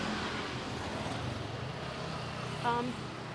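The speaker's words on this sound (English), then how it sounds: "now I apologize about the noise of the bikes" Steady roar of street traffic on Jalan Raya Legian in Legian, Bali, with passing motorbike engines, fairly loud and continuous, a brief higher whine near the end.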